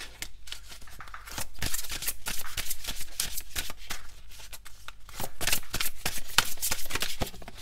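A deck of chakra oracle cards being shuffled by hand, dense rapid riffling and flicking in close bursts, with a brief pause near the middle before the shuffling resumes.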